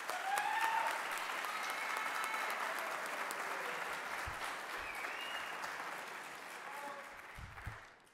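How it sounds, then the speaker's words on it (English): An audience at a school signing day event gives a sustained round of applause, a broad, steady patter that lingers for several seconds before tapering off, with a few faint voices and cheers inside it. "Let's give those individuals a round of applause."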